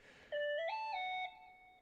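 A phone ringtone plays as a short, clean electronic melody of a few rising tones, close and alone in a quiet room.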